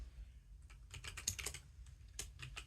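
Faint, rapid keystrokes on a computer keyboard come in quick clustered taps with brief gaps, close but quiet, with no voice.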